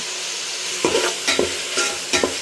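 Vegetables and tomato fry in oil for a pulao with a low, constant sizzle, while three or four distinct scraping strokes of a spoon stir the pan up close, with no voices.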